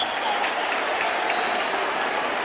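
A stadium crowd at an NFL football game between the Philadelphia Eagles and Buffalo Bills roars steadily throughout, a dense, continuous wash of cheering without pauses.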